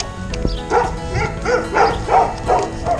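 A dog barks over and over in a steady rhythm, about six or seven rough barks, close and loud.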